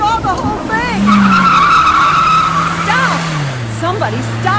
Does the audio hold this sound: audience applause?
no